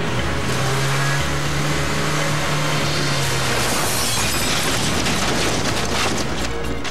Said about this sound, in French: Sur la vidéo, on voit que le véhicule a été soulevé d'1 mètre avant de retomber